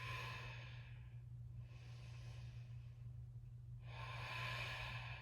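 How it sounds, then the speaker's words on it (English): Slow, deep breathing during a vinyasa yoga flow: long, quiet inhales and exhales, alone and close, with no talking. "Take big breaths."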